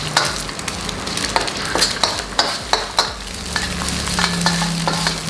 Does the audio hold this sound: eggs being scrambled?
yes